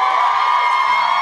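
A live concert crowd at a show cheers and whoops in a dense, steady roar that stays loud for just over a second, with no distinct voice standing out.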